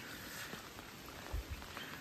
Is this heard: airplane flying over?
no